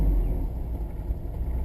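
A 1989 Ford F150 short-bed pickup engine runs close by with a steady low rumble, holding a fairly even revving drone throughout with no talk.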